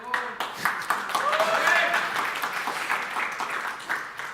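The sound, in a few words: applause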